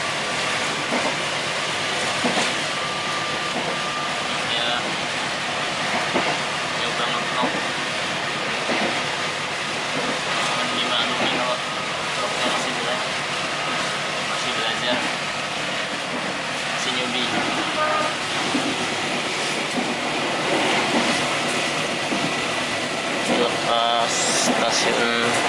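Kutojaya Selatan passenger train running between Sidoarjo and Langen, heard from inside the carriage as a steady, loud rumble with faint rail clatter throughout, with voices faintly in the background.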